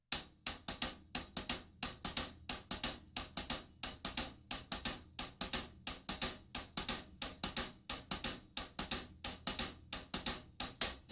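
Drum kit playing a laid-back 16th-note shuffle hi-hat groove for a song, crisp closed hi-hat strokes in a steady swung rhythm with kick and snare underneath, played alone with no talk.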